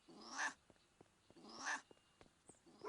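A pet cat in a room gives two loud, nasal meows about a second apart, with soft clicks and small movement noises between them.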